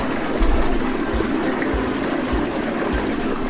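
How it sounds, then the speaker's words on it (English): A household toilet flushing, a loud close rushing and gurgling of water that continues steadily throughout. "I guess I'll flush it down the toilet."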